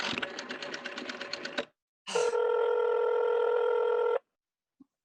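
A rapid burst of telephone dialing clicks, then a brief pause and a sustained steady ringing tone, as an old telephone is used to call the operator; no voices are heard.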